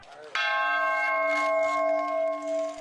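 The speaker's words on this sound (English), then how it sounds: "As he rang the peace bell in Dublin earlier Thursday" The peace bell in Dublin is struck once and rings out with a sustained, bright metallic tone that slowly decays, with faint background murmur.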